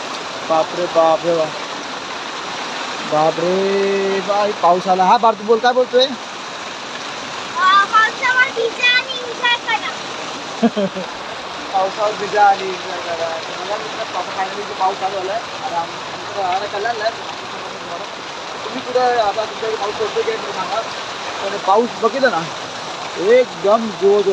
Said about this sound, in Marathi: पाऊस पडतोय मस्त